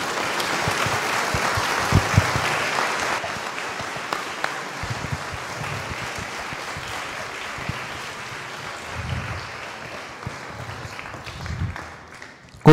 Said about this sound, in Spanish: Considero, hermanos, que el aplauso se quedó corto.